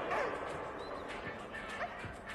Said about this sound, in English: That's a good dog right there.